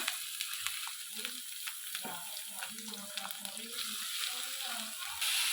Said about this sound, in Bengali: আমি এবারে পেঁয়াজ মুচিগুলো দিয়ে দিলাম